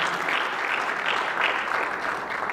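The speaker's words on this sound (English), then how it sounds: "clap hands for these two who are filling for our musicians" An audience at a church concert claps steadily for two stand-in musicians, a moderately loud, sustained wash of applause without speech over it.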